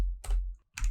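A few quick keystrokes on a computer keyboard while coding, two short close bursts of clicks separated by a brief pause.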